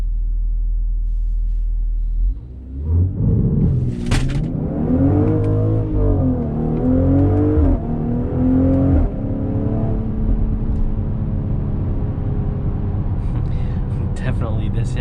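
A 2021 Mercedes-Benz GLC 43 AMG SUV in Sport Plus and manual mode, traction control off, accelerates hard with a rising engine roar through quick upshifts, then settles into a steady loud cabin rumble.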